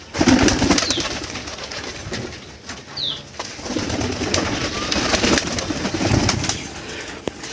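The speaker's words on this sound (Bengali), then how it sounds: "এটা কি জাতের কবুতর একটু কমেন্টে জানাবেন" Pigeons at a pigeon farm give low, repeated coos up close, mixed with occasional wing flaps and a busy background of other birds.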